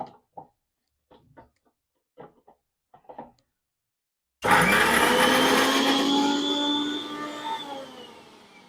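A kitchen mixer jar grinds hibiscus leaves into a fine paste for a hair pack. After a few soft clicks and handling noises, the motor starts abruptly with a loud, close, steady whirr that gradually lowers and fades toward the end.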